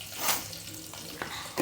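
Spices sizzle as they are tempered in hot oil in a home kitchen, with a steady frying hiss and brief stirring bursts.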